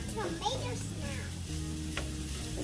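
Onions browning in a pan give a steady sizzle and hiss, while a voice talks over the frying throughout.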